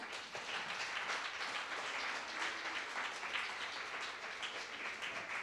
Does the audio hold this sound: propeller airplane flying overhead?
no